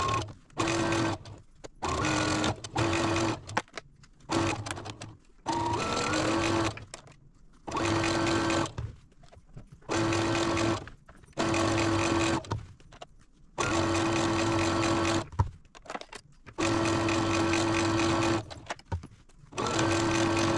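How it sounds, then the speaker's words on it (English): A sewing machine stitches a quilt piece in repeated bursts of steady mechanical whirring, each run lasting a second or two and separated by short pauses, close and clear with no talking. "I'll let you watch me sew this piece."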